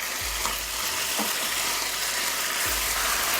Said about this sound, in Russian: Отправляю обжариваться имбирь и чеснок.